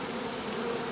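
Honeybees buzz close up inside a beekeeper's veil, a dense continuous drone filling the short moment without pause.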